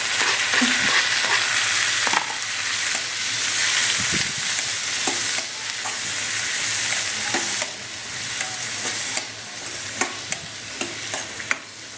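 Tomatoes fry and sizzle steadily in a pan for tamarind curry, with scattered scraping stir clicks and a few sharper spatters over a constant hissing bed. No one speaks.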